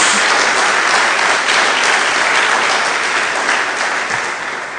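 Church congregation in a Portuguese-language service applauding, a dense, loud, continuous round of clapping that fades slightly at the close.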